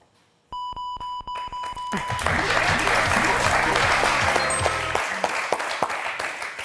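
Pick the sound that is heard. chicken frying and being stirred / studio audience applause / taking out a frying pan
studio audience applause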